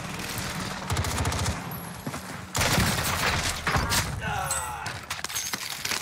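Gunfire rattles through a Warzone match on Rebirth Island, dense bursts of automatic shots layered with thuds and game noise, loud and near, continuing across the whole stretch with voices talking over it.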